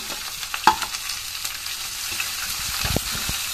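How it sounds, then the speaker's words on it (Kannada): Chopped onion and green chillies frying in hot oil for avalakki usuli, a continuous close sizzle broken by sharp spoon knocks and scrapes against the pan. "ಈರುಳ್ಳಿ ಕರೆಕ್ಟಾಗಿ ಫ್ರೈ ಆಗಬೇಕು"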